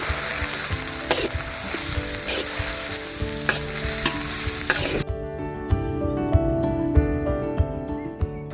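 Onions sizzle in hot oil with cinnamon, cloves and star anise, a loud close crackling fry with stirring scrapes that drops abruptly to a quieter sizzle marked by distinct spoon clicks.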